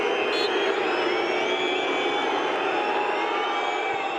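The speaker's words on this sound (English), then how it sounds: "And it's saved by Ederson, and the cheer is as big as it was for the 2 goals." A football stadium crowd roars in a sustained, loud cheer after goalkeeper Ederson's save in a Manchester City match, the broad wash of voices steady and unbroken throughout.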